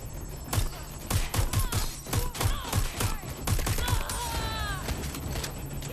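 Rapid volleys of gunfire crackle through a Watch Dogs Legion online shootout, loud sharp bursts repeating over the first few seconds before giving way to a steadier din with faint tonal wails.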